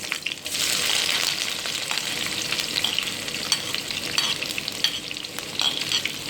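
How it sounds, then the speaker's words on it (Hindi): Onions frying in a pan for a potato and egg curry, with a dense, continuous sizzle and hiss and frequent scraping stirs running the whole time, close and fairly loud with no talking. "इस प्याज को हल्का सा जो है वो नरम कर लेंगे"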